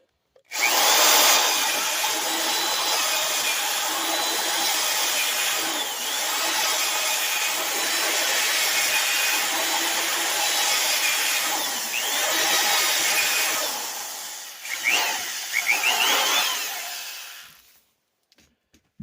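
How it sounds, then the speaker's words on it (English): A vintage Black & Decker electric drill whirs steadily into scrap wood for about seventeen seconds, its motor pitch shifting slightly as it bites, then winding down and stopping. "let's get a drill bit in there and we'll test its drilling ability"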